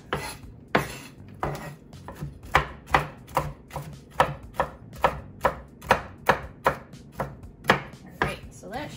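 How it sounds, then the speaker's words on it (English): Nuts are roughly chopped with a chef's knife on a cutting board: a steady series of crisp, fairly close knocks at an even rhythm, about two per second, with no talking. "I just go over top of the nuts and chop down"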